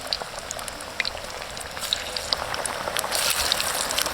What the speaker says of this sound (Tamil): இந்த மாதிரி மாவில் முக்கி எண்ணெயில் பொரிச்சு எடுத்தா வந்துங்க நம்மளுக்கு மீன் வறுவல்